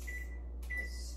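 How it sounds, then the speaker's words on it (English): An oven's control panel gives two short, clear electronic beeps, one after the other, while it is set to preheat to 375 degrees. A low steady hum sits underneath. "So we have to preheat the oven to 375."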